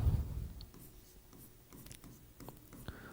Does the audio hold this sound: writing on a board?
yes